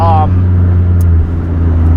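2015 Maserati GranTurismo engine, a loud, steady low rumble held close by, with a brief spoken voice at the start.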